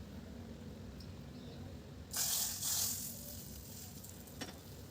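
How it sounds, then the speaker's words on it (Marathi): A loud hot sizzle of tempering poured into a pressure cooker of dal bursts in midway and crackles for about a second before fading back to a low background hum. "आणि डायरेक्ट कुकरमध्येच तो तडका द्यायचा"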